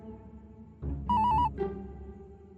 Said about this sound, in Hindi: ये लोखंडे जी भी ना किसी न किसी नंबर से फोन करते रहते हैं